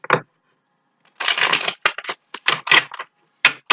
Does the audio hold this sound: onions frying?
no